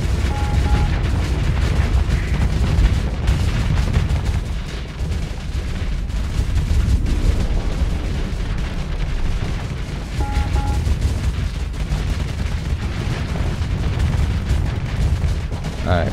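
Spaceship guns fire during a fleet battle in the video game Starsector, making dense continuous booming and rumbling bursts that are loud and sustained throughout, with no talk over them.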